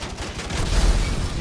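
Dense gunfire from the video game GTA 5 Online, a sustained loud burst of booming shots with a heavy low rumble and no distinct gaps between rounds.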